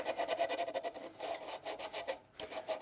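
A wooden yarn bowl is sanded by hand with folded 120 grit sandpaper, giving quiet, close rasping strokes in a quick back-and-forth rhythm with a brief pause near the end.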